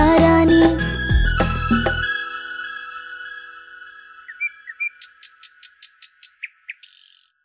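Chirping of a sparrow in a Hindi children's rhyme: after a musical phrase ends, bright bird tweets and whistles follow, closing with a quick, rhythmic series of about a dozen sharp chirps, clear and close.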